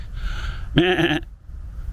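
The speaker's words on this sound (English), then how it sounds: "Oh, the sheep have come to see us." Sheep bleat once loudly and close by in a short, wavering call, with soft outdoor background noise before and after.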